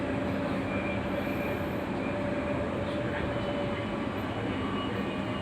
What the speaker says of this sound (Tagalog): Malakas ng tinatakbo ang train. Yan. Ito yung lakas ng train.